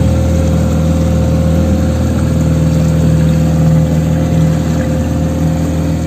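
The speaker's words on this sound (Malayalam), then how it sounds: "എൻ്റെ പുറകിൽ കൂടി ഒരു ബോട്ട് വരുന്നുണ്ട്" A motor boat engine on the backwaters drones steadily and loudly nearby as it passes, a constant low hum with slight swells in level.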